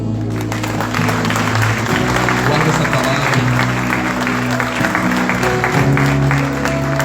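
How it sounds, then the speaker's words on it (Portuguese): A church congregation claps in sustained applause that fills the room, while a voice speaks briefly over the clapping and sustained music plays underneath. "Você pode aplaudir o Senhor?"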